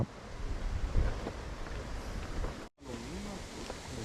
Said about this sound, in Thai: ลมแรงทั้งวัน